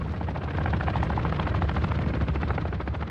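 A helicopter thrums steadily overhead in Call of Duty MW2 DMZ on Ashika Island, a loud close rotor chop with a rapid pulsing beat and a possible crackle of gunfire mixed in, no voices.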